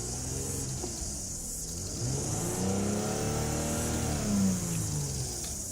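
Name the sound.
2007 Toyota Mark X engine revving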